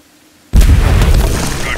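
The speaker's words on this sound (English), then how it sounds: "That explosion will sure attract some company." A C4 explosion in Aliens: Dark Descent, one sudden loud boom after brief silence, followed by a heavy rumbling roar that holds through the end.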